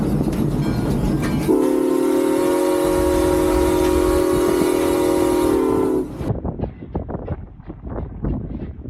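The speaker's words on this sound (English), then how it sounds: "The whistle's probably the most fun part, huh?" A loud steam train whistle blows one long sustained blast over rumbling rail noise, then cuts off, leaving the train clattering along.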